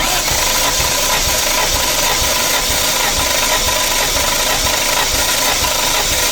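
Toyota 1JZ-GTE inline-six in a Mk3 Supra cranking over on the starter during a compression test of cylinder 6, a loud, steady rhythmic churning with rattly mechanical texture and a high whine on top, continuous for the whole stretch.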